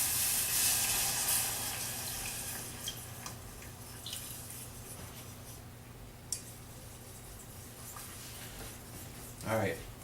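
Liquid added to a thick gravy in a pan and stirred, with soft wet splashes, drips and a few spoon clinks under a faint hiss, with a voice speaking.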